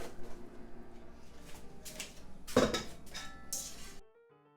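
Pesto alla Trapanese pasta is dished onto a plate with clinks and scrapes of utensils against crockery, a busy cluster of close knocks peaking near the end before stopping.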